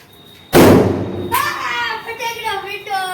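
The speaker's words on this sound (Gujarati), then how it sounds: "ફટાકડો ફીટો" A single firecracker bursts with a loud, sharp bang as children set off crackers on Ganesh immersion day, followed by a short echoing decay and excited children's voices chattering nearby.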